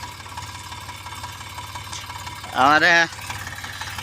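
A tractor loading cotton at night idles with a low, steady rumbling throb throughout, and a person speaks briefly over it.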